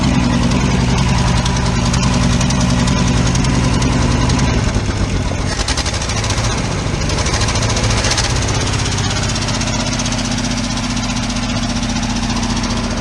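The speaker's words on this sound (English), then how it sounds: "we'll rev her up from the car" A loud old Ford crew cab truck engine close up starts at a rough idle, then revs up partway through, its pitch rising and churning before settling into a harder, busier drone.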